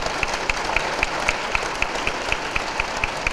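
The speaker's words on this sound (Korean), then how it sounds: "박수 하시려면 크게 하시고 아니면 하지 마시고" Assembly audience at a Korean Presbyterian church meeting clapping in unison, a steady rhythmic beat of about four claps per second, crisp and evenly spaced, with no talk over it.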